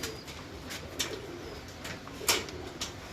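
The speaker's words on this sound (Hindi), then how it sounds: "चोई साहब का 10 नंबर कबूतर, CH 10।" A pigeon, Choi Sahib's CH 10 breed, gives soft repeated coos near at hand, with brief sharper flutters or clicks scattered between them and no talk.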